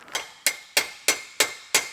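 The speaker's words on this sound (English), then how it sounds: "unless I hammer it back in and it snaps off altogether" Six sharp metal hammer blows at a steady rhythm strike a fatigued, broken weld on a car, each impact ringing briefly and close up with no talking.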